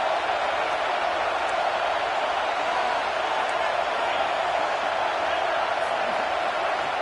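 A football stadium crowd roars steadily behind the defense on a big third down, a dense, constant wash of cheering and noise that stays even from start to finish.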